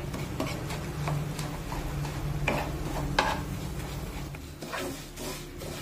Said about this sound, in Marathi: तर आता केळ या रव्यामध्ये अगदी व्यवस्थित मिक्स करून घेऊया, छान एकजीव करून घेऊया।